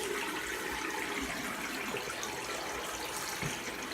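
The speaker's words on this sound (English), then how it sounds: "rinse up again here real quick" Water runs steadily from a tap, a continuous broadband hiss as a razor is rinsed under the stream, close and alone with no talk.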